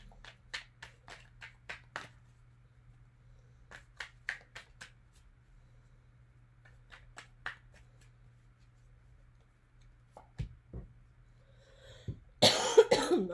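A person coughs in a quiet room, several short bursts in clusters spaced a few seconds apart, close and fairly soft, followed by a louder rustle at the end.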